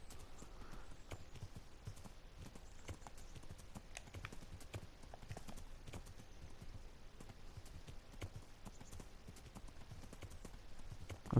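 Horse hooves in the video game Kingdom Come Deliverance clip-clop in a quick, steady rhythm throughout, fairly faint and unaccompanied by talk.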